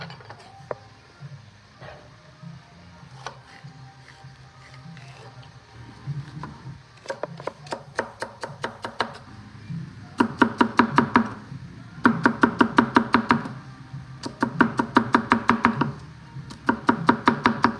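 A knife chops celery stalks and half an onion on a cutting board for eggplant caponata. A quiet stretch gives way to quick bursts of sharp, evenly spaced strokes, loud and close, coming in several clusters.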